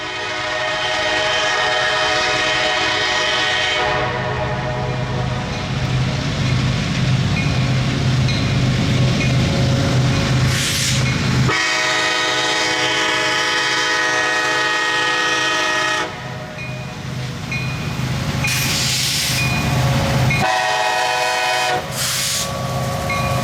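A Kansas City Southern freight train rolls loudly past, its horn sounding in long blasts over the steady rumble and clatter of the cars, with no talking.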